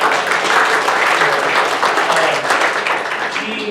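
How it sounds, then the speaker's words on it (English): Audience applause fills the room at a faith-based workshop on mental health, steady, dense clapping held at an even loudness for the whole stretch with no voices over it. "So let's give her a round of applause for that."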